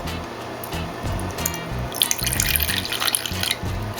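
Heinz distilled white vinegar poured into a container, a close, steady liquid stream that grows fuller and splashier partway through.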